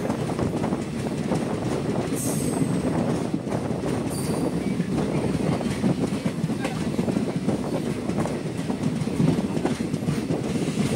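A passenger train runs steadily after pulling out of Karchi railway station in Tripura on the Agartala–Sabroom line, with a continuous close rumble and rattle of wheels and carriages that stays even throughout.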